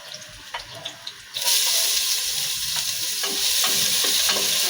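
Sliced ginger hits a hot pan of oil for a Filipino fish soup, a sudden loud, steady sizzle taking over after quieter kitchen clatter and stirring, close up with no talking.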